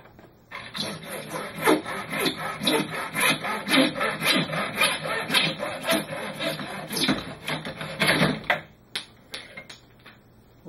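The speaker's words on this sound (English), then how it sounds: "Miter box works well for this because you can make a nice straight cut using it." A handsaw cuts wood in a miter box with quick, rhythmic back-and-forth rasping strokes, close and steady for about eight seconds before stopping with a few light knocks.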